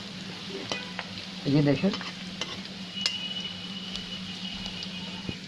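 Onions, already reddened, frying in a pan for a dhaba-style fish special, with a steady low sizzle, a burst of stirring near the middle and scattered utensil clicks, under a brief spoken remark.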